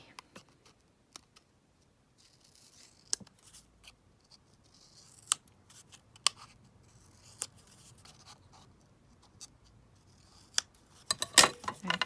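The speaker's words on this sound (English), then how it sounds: "Let me just cut that down." Scissors snip a small paper ticket in a quiet desk setting: sparse, sharp clicks and crisp cuts scattered across the stretch, close but soft, with a quick cluster of snips at the end.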